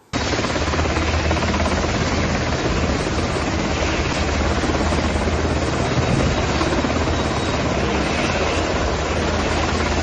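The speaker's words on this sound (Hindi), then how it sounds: "तो यहाँ वीडियो का पहला हिस्सा आप देखेंगे जिसमें आपको सैन्य हेलीकॉप्टर दिखाई देंगे" A continuous, loud rotor-and-engine roar of military helicopters, steady throughout with no pauses and no talking.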